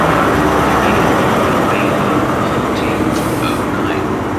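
A Class 43 HST train at Bristol Parkway station gives a loud, steady rumble with a continuous roar throughout and a faint higher whine near the end.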